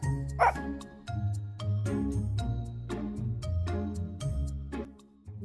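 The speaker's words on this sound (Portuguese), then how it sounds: "E qual é o som que o cachorro faz?" Dog barks sound in a series of short, bright bow-wow yips over a bouncy children's backing tune, repeated several times in a steady rhythm.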